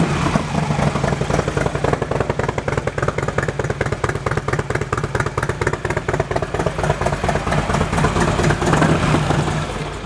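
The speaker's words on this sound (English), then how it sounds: "the previous owner also bought you a real nice sounding set of Screamin' Eagle pipes. Low and throaty" A 2007 Harley-Davidson Electra Glide Standard with aftermarket Screamin' Eagle exhaust pipes idles steadily up close, its low, throaty, loping pulses continuous and loud for the whole stretch with no talking.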